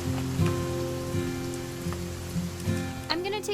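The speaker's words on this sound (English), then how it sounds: "It's gonna rain the whole weekend, isn't it?" Rain falls in the video game What Remains of Edith Finch, a soft steady patter under low humming tones and a few brief sounds, with no one speaking.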